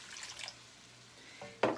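Water poured into a pan of browned taco meat with taco seasoning, a brief close splash and sizzle near the end after quiet kitchen background.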